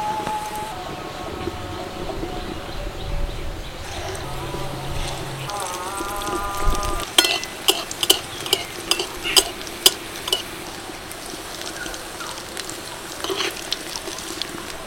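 Crispy raw onion snacks fry in hot oil with a soft sizzle and stirring, then clatter and scrape sharply as they are lifted out, in several quick knocks near the end.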